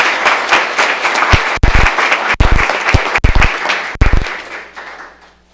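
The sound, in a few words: audience applause at a school board meeting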